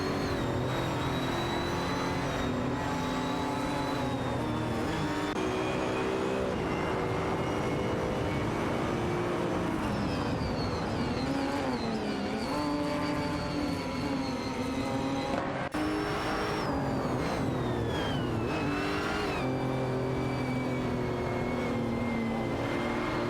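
Ginetta G55 Super Cup and Ford Mustang GT4 race cars in an AI sim racing game, engines roaring continuously and loud with shifting revs and gear changes, cars passing close through the whole stretch, no talk.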